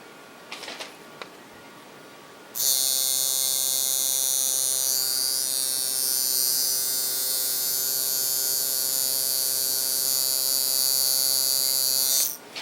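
A tattoo machine buzzes steadily for shading, its speed turned up slightly, starting abruptly after a brief quiet lead-in and holding a loud, even electric whine for about ten seconds before cutting off.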